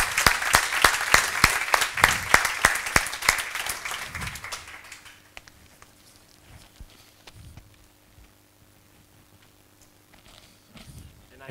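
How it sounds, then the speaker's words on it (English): A conference audience bursts into loud, brisk clapping that holds for about four seconds, then tapers off quickly into a quiet room with scattered low sounds and a soft hum. "let's give them a big hand of applause before they even get up to the stage"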